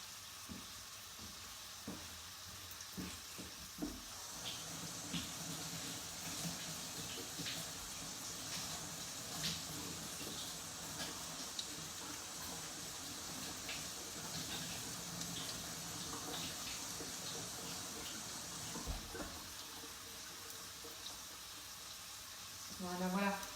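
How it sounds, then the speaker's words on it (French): A leek rinsed under a running kitchen tap, a steady hiss of water flowing for a long stretch with faint handling noises, quiet and close. "Donc, je vais rincer maintenant mon poireau avant de le découper."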